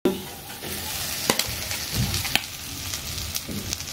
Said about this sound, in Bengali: আলুটা দিয়ে এটাকে একটু ভালো করে নাড়িয়ে নেব